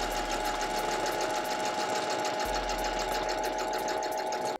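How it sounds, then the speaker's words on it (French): Sewing machine stitching swimsuit fabric with a zigzag stitch, a steady fast mechanical whir running continuously at close range, stopping abruptly at the end, no talk. "maintenant on va coudre"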